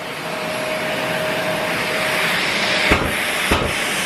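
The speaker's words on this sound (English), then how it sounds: "I think this is the auto clean function that's going on now with the noise" A Mirka Deros electric sander runs its auto clean cycle, a loud steady whooshing hiss with a faint constant tone, broken near the end by two short bursts of air.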